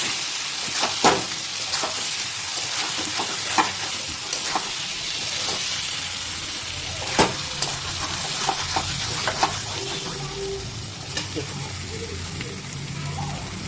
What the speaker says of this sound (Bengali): দিয়ে এবারে আলুটার সাথে ভালো করে কষে নেব আরও 10 মিনিট।